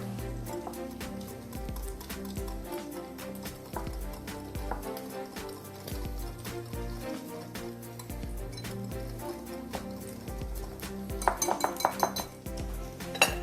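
Seasoning with salt, pepper, garlic and onion powder being mixed in a bowl: continuous scraping and light clinking of a utensil against the bowl, with a brisker burst of clinks near the end and no talk.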